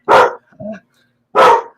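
A dog barks twice loudly and close by, with a softer low whine or grumble between the two barks and no talk.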